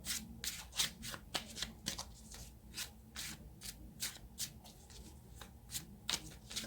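Tarot cards being shuffled and handled before one is drawn from the deck, giving rapid, rhythmic papery riffles and soft rubbing at close range, quiet and without talk.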